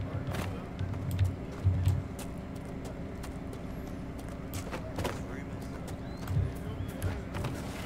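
Horse hooves clop in the Hinterlands of Dragon Age: Inquisition, with soft rhythmic thuds in short clusters against a low ambient background.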